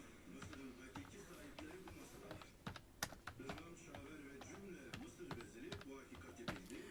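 Faint clicking of keys as someone types on a computer keyboard in Microsoft Word, quick irregular taps under a quiet voice speaking throughout.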